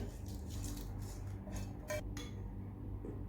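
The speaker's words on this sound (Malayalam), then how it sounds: "ഇതെല്ലാം കൂടി നല്ലോണം ഒന്ന് മിക്സ് ചെയ്ത് കൊടുക്ക്" A spoon mixing ginger yogurt pachadi with its tempering in a bowl makes quiet, sparse clinks and soft scrapes against the dish, close by but faint.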